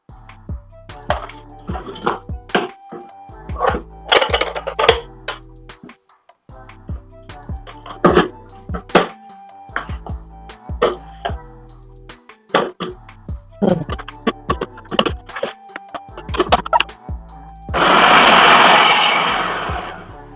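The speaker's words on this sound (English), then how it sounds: "I'm now trying the food processor part, not the pulse machine again." An Amazon Basics food processor chops in many short choppy pulses, then its motor runs in one steady whirring burst of about two seconds near the end.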